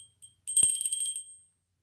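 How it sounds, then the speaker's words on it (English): A loud, obnoxious bell rings close by, with a couple of faint taps and then one bright, sharp strike whose metallic ring fades within about a second, followed by silence. "today I have a loud, obnoxious bell"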